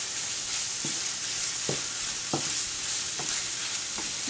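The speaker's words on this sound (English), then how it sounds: "and then you add half a teaspoon of salt, and then you stir" Lobster sauce being stirred in a sizzling pan: a constant bright frying hiss with five or six soft, regular scrapes of the spoon, close and alone without talking.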